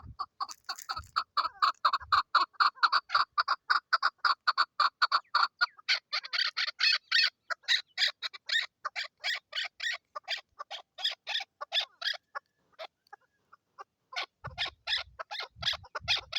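Male and female chakor partridges call in Swat, Pakistan, a long run of rapid, rhythmic clucking and chattering notes, fairly close and clear, pausing briefly before resuming near the end.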